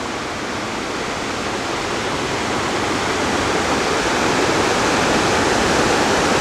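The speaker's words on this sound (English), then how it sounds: "And there is a big waterfall." A big waterfall in a gorge roars in a steady, loud broadband rush that swells slightly, with no voices over it.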